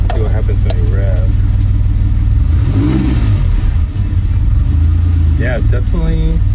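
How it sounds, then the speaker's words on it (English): A DeLorean engine, with a new starter and fresh oil, rumbles loudly at close range and swells through a rev, while people talk over it. "Let's see what happens when you rev."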